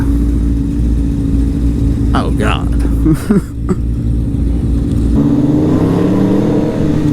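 Powerful car engine running loud and close at a street machine event, a steady heavy drone that shifts pitch partway through as it revs, with someone speaking briefly over it.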